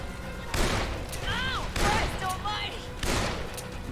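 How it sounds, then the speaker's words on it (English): Gunfire in the Dead Island video game: three separate heavy shots spaced about a second apart, with someone talking in between and over them. "Who's shooting at me?"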